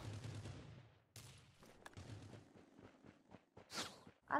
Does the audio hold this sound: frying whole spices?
no